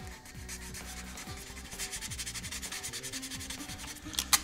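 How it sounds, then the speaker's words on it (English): Sandpaper scuffs back and forth across a vinyl wrap on a Nerf blaster in a steady run of rhythmic rasping strokes, close and fairly loud, with no talking. "I am going to grab some sandpaper."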